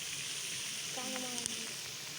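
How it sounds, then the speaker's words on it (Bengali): Onions frying in a pan during an outdoor picnic cook-up for Mahalaya, giving a steady, close sizzle with faint utensil taps midway, then cutting off abruptly. "এখন পেঁয়াজ ভাজা হচ্ছে"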